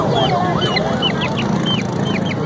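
Desi chickens call out repeatedly at a crowded bird market in Korangi, Karachi, a steady run of short, close clucks and squawks over a continuous background of market noise.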